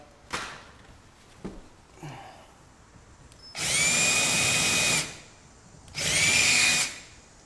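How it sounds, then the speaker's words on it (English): A drill fitted with a high-speed steel countersink bores into a lath and plaster wall in two loud, close whining bursts of about a second and a half each, preceded by a few clicks and taps. "Then I'm going to bore out this screw with this, and these are called high-speed steel countersinks"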